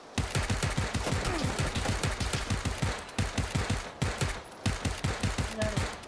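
Rapid automatic gunfire in the battle-royale game PUBG, sustained bursts of closely spaced shots rattling almost continuously with a couple of brief gaps, loud and close.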